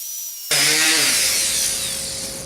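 A bandsaw starts up and cuts exotic Padauk wood into shapes, a loud steady whine with a bright high hiss holding from start-up to the end, no voices present.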